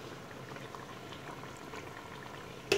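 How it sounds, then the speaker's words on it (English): A pot of soup boils hard on a stove, a steady close bubbling and hiss running throughout with no talk, ending in a sudden loud burst in the last moment. "It's supposed to be simmering, but it looks like it's boiling."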